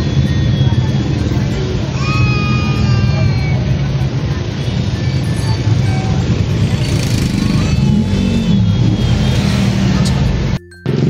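Car traffic on a busy street rumbles loudly and steadily, with engines and passing vehicles close by, under people talking throughout.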